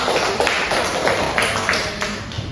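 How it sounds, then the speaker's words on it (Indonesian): Brief applause in a classroom during a lesson, a short patter of scattered claps, fairly close and uneven, fading out over a couple of seconds. "berikan tepuk tangan kepada Pak Adan."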